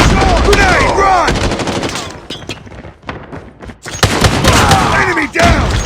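Striker shotgun fire in the mobile shooter game Call of Duty Mobile, loud and close, arriving as rapid bursts of blasts with brief pauses, mixed with game effects and a lull in the middle before firing resumes.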